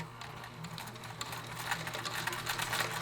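Sewing machine stitching fabric, a quiet steady mechanical whir with fast rhythmic clicking, close but faint against a low background hum, no talking.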